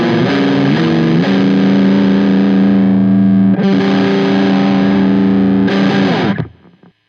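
An electric guitar pushed through an overdrive pedal with the gain cranked plays thick, heavily distorted sustained chords, three loud ringing strums that hold and then cut off abruptly at the end.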